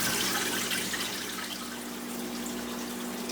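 Water gushes steadily from a hose filling a 40 breeder aquarium tank, a loud constant rushing with no talk.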